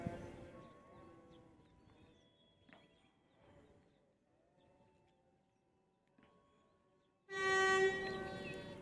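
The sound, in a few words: train departing station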